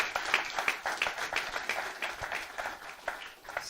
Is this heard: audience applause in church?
yes